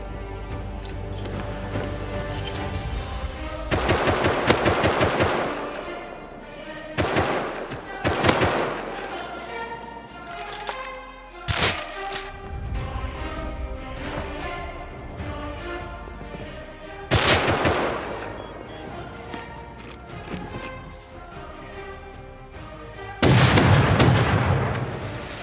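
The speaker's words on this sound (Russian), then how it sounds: "Я слышала, там селки, да, возле дома стреляли у нас?" Repeated bursts of gunfire from an online survival video game, broad loud volleys spaced through the stretch with quieter gaps between, some sounding near and heavy, with faint voices in the background.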